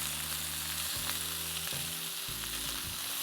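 Chicken wings fry in a hot pan with a steady, close sizzle, punctuated by a few soft knocks as pieces are flipped; no voices.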